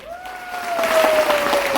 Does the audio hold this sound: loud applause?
yes